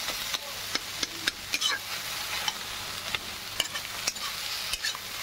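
Egg bhujia fries and sizzles in a pan while a utensil stirs it, with a steady hiss broken by frequent sharp scrapes and clicks against the pan. The sound is close and moderately loud, with no one talking.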